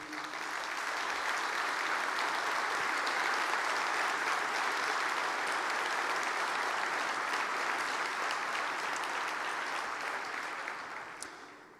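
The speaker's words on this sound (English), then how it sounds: "Please stand for a round of applause and appreciation." Sustained applause from a large conference audience at an annual general session, steady and dense for about eleven seconds before tapering off at the end.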